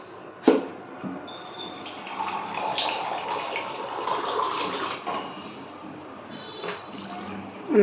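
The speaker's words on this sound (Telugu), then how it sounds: "సో నేను ఇంకొక 1 గ్లాస్ యాడ్ చేసుకుంటాను." A glass of water pours steadily into a pot of goat head curry for several seconds with a soft rushing splash, beginning after a sharp clink and trailing off.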